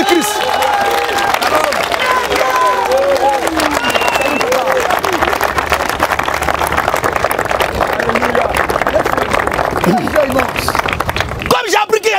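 A church congregation acclaims and applauds the Lord Jesus Christ, with steady clapping, cheering and excited voices blending into a loud, sustained roar of crowd noise that cuts off near the end.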